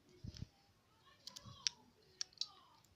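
Metal scissors are handled, giving a few sharp, light clicks and ticks that come in scattered bursts against a quiet background, with no speech.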